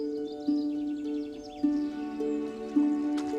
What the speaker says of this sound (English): One of the most familiar is that of the chaffinch.